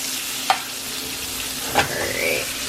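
Steak fries in a pan with a steady, close sizzle, broken by a couple of sharp scrapes or taps of a utensil against the pan.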